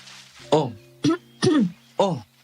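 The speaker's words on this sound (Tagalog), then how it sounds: "Inuubo ka na" Four harsh, throaty coughs in quick succession, close to the microphone, with short pauses between them.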